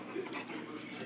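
Dogs whimper and yip at a birthday celebration with treats, soft and close, with a person talking over the sounds.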